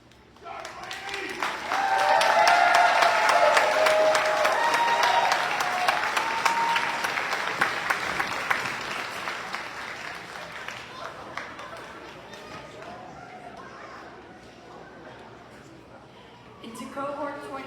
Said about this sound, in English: Students, please stand, turn, and give the audience a round of applause.